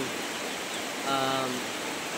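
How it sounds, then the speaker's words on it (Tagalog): Rain falls steadily as a soft, continuous hiss, with a short voiced sound briefly rising above it midway. "So kagina ulan guys, hangtod karon nag-ulan."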